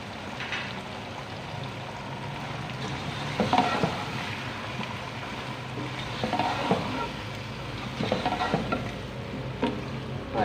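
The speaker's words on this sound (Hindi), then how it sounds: "और अच्छे से भून लेंगे।" Biryani masala being stirred and fried in a pan, with a steady sizzle and intermittent scraping strokes of the spoon throughout, close and moderately loud.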